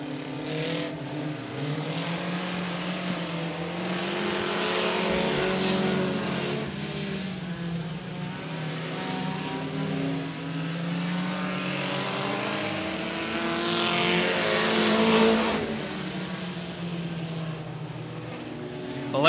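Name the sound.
race cars racing on a speedway track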